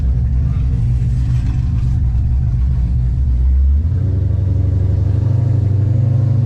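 A tuned race car engine with a stall converter rumbles loudly at close range, a deep throbbing idle that swells into a heavier, rising rev partway through.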